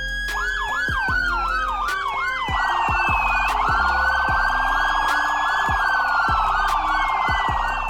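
A police car siren runs through several patterns, rapid yelping sweeps and then a long rising and falling wail, loud and continuous with sharp pulses cutting through.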